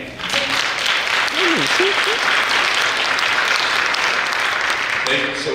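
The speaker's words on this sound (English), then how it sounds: "All right, everybody give them a hand." An audience at a law talk breaks into sustained, dense clapping that stays loud throughout, with a few brief voices mixed in near the end.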